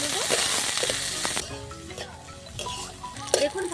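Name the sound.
onion and green chili frying, stirred in pan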